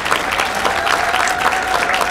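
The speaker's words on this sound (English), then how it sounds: "Please give our panelists a round of applause" An audience at a Lakota language summit applauds the panelists with loud, continuous clapping from a full room, a dense steady patter with no pause and faint voices mixed in.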